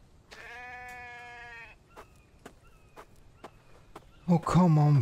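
One drawn-out bleat from a sheep in the survival game The Infected, followed by scattered light footsteps, then a voice cuts in near the end.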